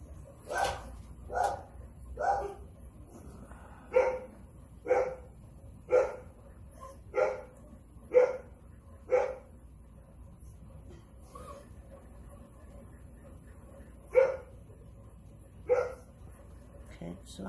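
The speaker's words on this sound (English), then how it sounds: "What's a video without the dogs barking?" A household's dogs barking indoors in a string of sharp, evenly spaced barks with a few later outbursts, moderately loud against a quiet room.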